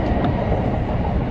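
A Tokaido Line rapid train runs along the track, heard as a loud, steady rumble and rolling wheel noise with no voices.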